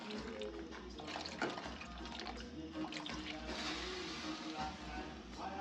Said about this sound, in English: So look how I'm going to throw the cold water on the peas, and it's going to sink to the bottom.